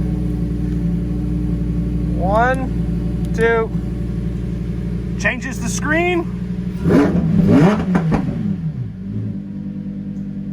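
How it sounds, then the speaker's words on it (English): A 2019 Lamborghini Huracan Performante engine idles with a low rumble, then revs up in a few loud bursts while a person talks over it. "that might be the greatest sounding engine I've ever heard"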